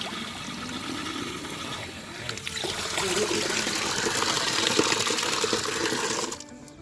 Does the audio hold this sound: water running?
yes